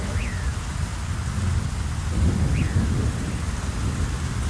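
A rain and thunder sound effect from an animated jungle story: a steady heavy downpour with a rolling thunder rumble swelling midway and two short bird-like chirps, loud and without speech.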